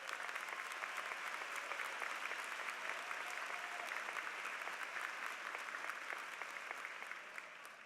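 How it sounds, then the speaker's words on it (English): Sustained applause from a university commencement audience honoring Phi Beta Kappa inductees, a dense, steady wash of many hands clapping at a distance throughout, tapering slightly at the end. "Give them a round of applause."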